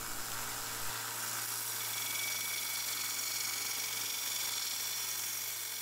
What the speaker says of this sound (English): I turned on the belt grinder to put the finishing touches on the blade.